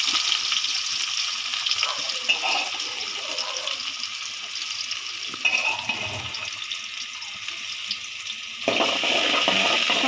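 Onions tipped into hot oil while crab curry is cooked, a steady loud hiss and sizzle lasting throughout, with soft stirring clatters and a brief dip before the frying noise swells again.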